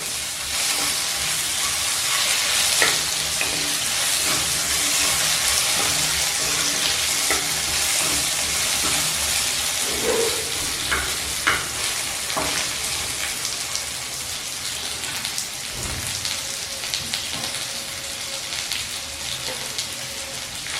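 Raw mango pieces fry in a pan over a low flame, giving a steady, dense sizzle that runs unbroken throughout, with a few faint clinks and scrapes of stirring near the middle.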